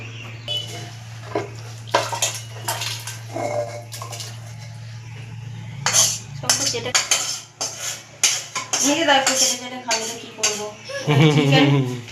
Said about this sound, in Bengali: এবার আমি মাংসটাকে দিয়ে দেবো কুকারের মধ্যে।